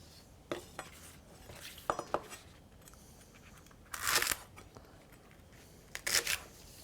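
Dirty leeks are cut into sections with a knife on a cutting board, heard as a handful of quiet, sharp chops and crisp crunches spaced irregularly in a still kitchen.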